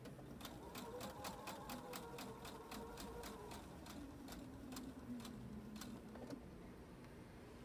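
Sewing machine chain-stitching fabric blocks, a steady fast rhythmic needle clatter running continuously at close range with a faint motor hum underneath.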